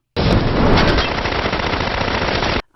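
Loud, close burst of rapid automatic gunfire from the film Ghost Rider 2, a dense continuous rattle lasting a couple of seconds and then cutting off abruptly, with no voices over it.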